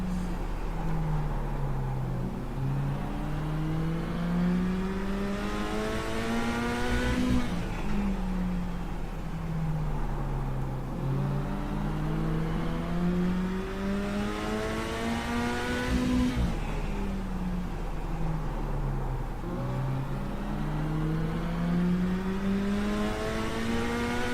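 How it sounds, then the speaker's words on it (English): Mini stock race car engine heard from inside on track, revving high in long sweeping cycles as it accelerates down straights and dips through corners, loud and continuous with no talking. "I'd like to know what this car's revving at"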